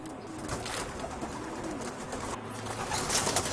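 Homing pigeons at a breeder's loft coo softly amid a busy, noisy background of flock sounds and wing rustling.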